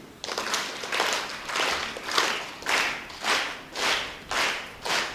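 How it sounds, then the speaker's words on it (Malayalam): A crowd at an annual conference hall claps in unison, eight or nine loud, even bursts of applause in a steady rhythm, close and with no talking. "നല്ല ശബ്ദത്തിൽ ഒരേ താളത്തിൽ കൈയടിച്ചേ"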